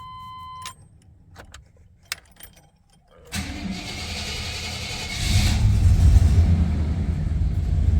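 A 1990 Chevy Silverado pickup truck cranks and fires up after keys jingle, then settles into a steady rumbling idle that grows louder and fuller, close by with no talking.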